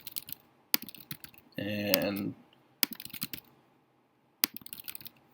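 Bursts of typing on a computer keyboard, with clustered key clicks broken by pauses, close and fairly loud, alongside a brief spoken word.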